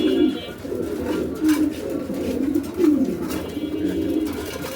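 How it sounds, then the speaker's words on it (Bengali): Several big-size pigeons coo together in a loft where breeding pairs are kept, producing a steady, close, low rolling murmur with a few louder swelling calls and no talk. "বিগ সাইজের কবুতর ভাই"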